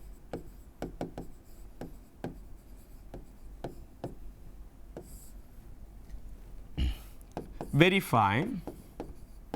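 Pen or marker writing out assignment questions during a lecture on second-order differential equations, with a series of sharp taps and scratching strokes near the mic, a brief word spoken, then a louder scribbling burst near the end.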